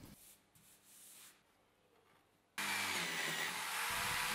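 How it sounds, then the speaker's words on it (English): A column drill boring holes in plywood for a sharpening jig: quiet handling and faint rustle at first, then the drill motor kicks in abruptly with a loud, steady whine and grinding bite into the wood, close and alone. "I drill all the holes with a column drill"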